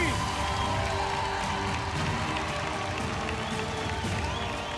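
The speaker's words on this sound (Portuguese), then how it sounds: "Um aplauso para o Joaquim." On The Voice Portugal, the television talent show, a studio audience applauds and cheers in a dense, continuous wash of clapping and crowd noise that holds at a steady level throughout.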